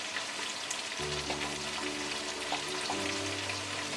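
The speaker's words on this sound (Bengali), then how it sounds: "এখন আমি এটা নেড়ে চেড়ে তারপর আমি এক এক করে অন্যান্য মশলা দিয়ে দিব" Dried lotte fish frying in a pan with spices, giving a steady, close sizzle and crackle that runs through the whole stretch, with low background music underneath and no talking.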